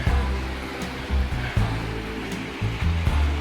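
Creek water rushes steadily close by along the Kanarra Falls hiking trail near Cedar City, Utah, a loud, broad, continuous wash with faint bumps from movement and no voices.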